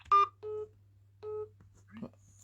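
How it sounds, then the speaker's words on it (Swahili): Telephone keypad tones from a reverse-charge call request system: three short, clear beeps spaced about half a second apart, followed by a brief soft click, all quiet and close with no talking over them. "press 1 to accept or press 2 to decline the reverse call request"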